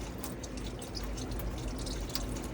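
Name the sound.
water running from kitchen tap in motorhome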